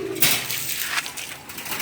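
Pigeons in a breeder's loft in Tacloban give a brief, close, throaty coo.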